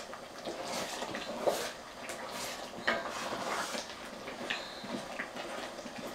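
Goat meat stew being stirred in a pot, with scraping and clinking of the spoon against the pot over a steady sizzle, close and continuous, with no talk.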